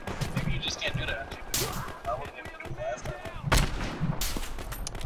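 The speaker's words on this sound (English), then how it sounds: "I sniped you across the map." Rifle shots and explosions crack through a Battlefield Hardline online match, several sharp loud bursts spread over a few seconds amid game noise, with a player talking over them.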